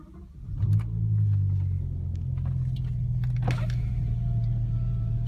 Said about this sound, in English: So we're gonna turn the car on.